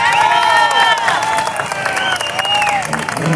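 Crowd at a municipal workers' union 30th anniversary celebration in Huajuapan de León applauds loudly, with cheering, whistles and shouts over dense clapping that stays strong throughout.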